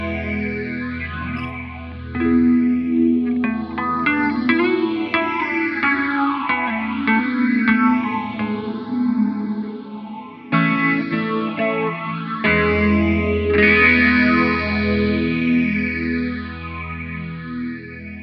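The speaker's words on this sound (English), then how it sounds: "increase the modulation depth on Hypersphere, as well as the modulation depth on Resonant, which will give us sort of a chorusy sound" Sustained electric guitar tones with a sweeping, shimmering chorus modulation from an ambient delay and reverb pedal, rising and falling continuously, loud and heavily processed with echo.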